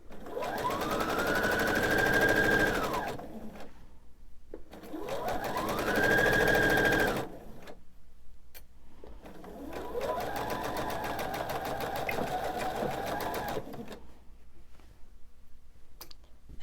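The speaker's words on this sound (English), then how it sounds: "I am going to backstitch at the beginning and end of this seam." Sewing machine stitching a seam on a fitted crib sheet, with backstitching at each end: three close, steady whirring runs of about three, three and four seconds, separated by brief pauses, alone and fairly loud.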